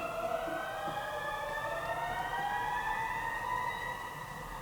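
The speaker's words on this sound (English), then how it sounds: "So we're going to let those sirens just pass on by." Wailing emergency sirens rising and falling steadily, loud and continuous, passing by with traffic rumble underneath.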